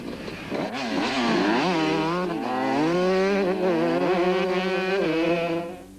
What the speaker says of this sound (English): allowing the quad and bike riders to really open up the throttle